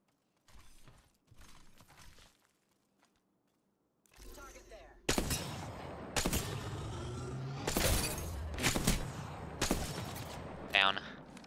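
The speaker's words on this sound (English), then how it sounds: "They're shooting each other." Gunfire in the video game Apex Legends: a quiet start, then repeated sharp shots and short bursts from about five seconds on, fairly loud and close, with a brief mechanical rattle near the end.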